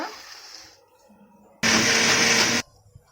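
A mixer grinder whirs loudly for about a second, grinding idli batter with water, after quieter stretches with a voice and low hum.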